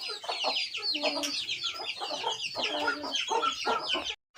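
Brooding hens being settled onto eggs cluck and croon continuously and close by, a busy run of repeated calls that stops abruptly near the end.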